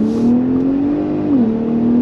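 Engine note of a 2022 Ford F-150 Raptor pickup with a 10-speed transmission as it accelerates hard from a standstill, a steady loud drone that rises in pitch and then dips briefly at a gearshift, with no talk over it.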